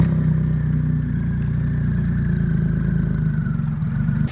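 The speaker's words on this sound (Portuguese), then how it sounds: "A próxima moto aqui da lista é a Triumph Rocket 3 Roadster" A Triumph Rocket 3 Roadster with its 2.3-litre three-cylinder engine runs at a steady idle, a close, loud low rumble with an even mechanical throb and no voices.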